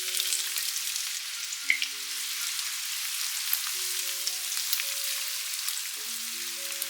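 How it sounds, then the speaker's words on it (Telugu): Chopped onions frying in a pan for veg kheema, a steady close crackling sizzle that continues evenly throughout, with soft background music tones underneath and no talking. "ఇప్పుడు దీనిలో మనం చిన్నగా కట్ చేసి పెట్టుకున్న 2 ఉల్లిపాయలను వేసుకోవాలి."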